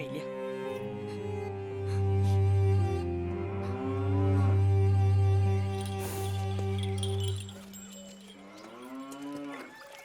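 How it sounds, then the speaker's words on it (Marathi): A cow lows long and deep, searching for her calf, with two drawn-out, loud moos, and a voice speaks over the end. "चंद्री काय होऊन आंबरू लागली अहो ती वासराला शोधते"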